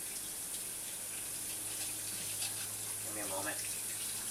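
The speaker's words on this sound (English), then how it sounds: "I gotta rinse this off" Tap water runs steadily in a sink for rinsing off after handling Carolina Reaper pepper juice, a constant close gush with a brief spoken comment over it.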